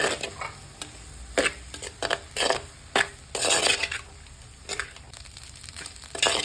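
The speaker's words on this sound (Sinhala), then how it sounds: "අපි මෙන්න මේකට දැන් බත් ටික දාගන්නවා" Cooked rice is tipped into a pot and stirred, with a string of short scraping, rustling bursts of spoon against metal over a soft background hiss.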